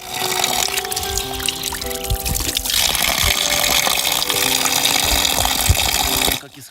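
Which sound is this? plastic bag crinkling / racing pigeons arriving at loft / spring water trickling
spring water trickling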